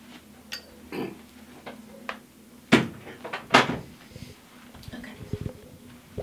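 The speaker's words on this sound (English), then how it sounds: "You can close the door if you want." An indoor door closing during an interview setup, heard as a couple of sharp thuds and clicks in the middle against a quiet room, with faint voices and light handling noises around it.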